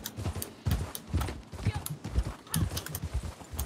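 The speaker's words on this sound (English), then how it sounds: "This my Red Dead Redemption horse is called Sausage." A horse named Sausage in Red Dead Online trots with a rhythmic clip-clop of hooves, steady and close, under a voice talking.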